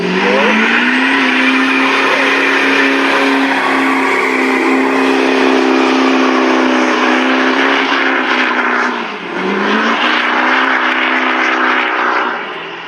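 A Duramax diesel pickup truck revs hard and accelerates, its loud sustained engine roar climbing in pitch with a brief dip near the nine-second mark like a gear shift before pulling again.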